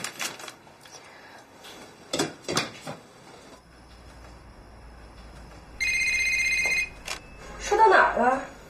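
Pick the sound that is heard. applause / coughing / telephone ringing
telephone ringing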